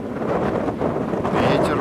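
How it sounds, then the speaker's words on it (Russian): Fresh wind roars across the microphone at a new mountain viewpoint on Gran Canaria, a continuous loud, dense rush with no pauses, and a voice is faintly mixed into it. "Ветер уже более свежо, горы однако."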